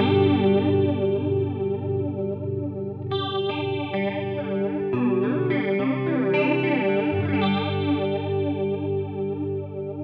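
Electric guitar played through a Walrus Audio Polychrome flanger set to its traditional voice: sustained chords and a few changing notes with a sweeping, swirling comb-filtered shimmer, loud and close, no talking.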